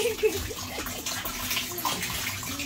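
Shower water runs in a hotel bathroom, a steady hiss of spray with a few splashing gurgles, close by, while a person talks over it.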